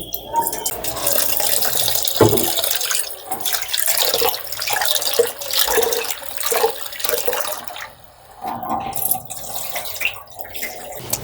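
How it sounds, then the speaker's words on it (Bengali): Mung dal is rinsed by hand under running tap water in a sink, a steady close rush of water with uneven splashing and sloshing that dips briefly near the end. "প্রথমে আমি মুগ ডালটা ধুয়ে নিচ্ছি।"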